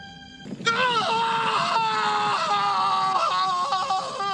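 A dramatized, anguished human scream wails on and on with wavering, sliding pitch, loud and sustained over a brief low rumble at the start.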